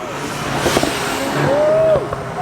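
A car engine revs up close, a loud throaty roar climbing in pitch and then dropping back, with faint background noise.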